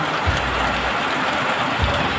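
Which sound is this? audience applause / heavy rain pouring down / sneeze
heavy rain pouring down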